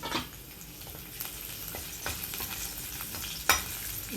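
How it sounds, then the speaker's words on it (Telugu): Finely chopped garlic frying in two spoons of oil in a kadai, a soft steady sizzle with occasional stirring scrapes and clicks, one sharper clatter near the end, no voices. "ఒక కడాయిలో రెండు స్పూన్లు నూనె తీసుకోండి వెల్లుల్లి ఇట్లా సన్నగా తరుక్కుని వేయించుకోవాలన్నమాట"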